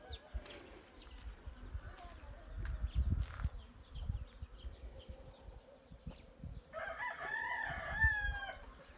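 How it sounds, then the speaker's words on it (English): Chickens on a ranch, a flock of twelve hens with a rooster and twelve chicks, cluck intermittently in the distance, while a harsh crowing call rises near the end over a steady background drone of buzzing insects. "There's 12 chicks, and there's 12 hens and 1 rooster."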